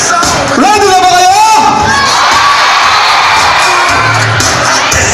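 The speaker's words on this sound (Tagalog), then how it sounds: "Lakas na ng hiyawan, ha?" A large crowd of students at a campus wellness showdown in Bulacan roars and shouts continuously, loud and close, with a drawn-out yell rising above the din early on.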